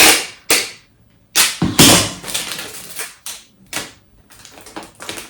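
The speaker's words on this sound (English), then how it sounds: "definitely want to add a little extra tape to the opening" Packing tape is pulled and pressed onto a shipping package in several sharp rips and slaps followed by rustling, loud and close with no speech.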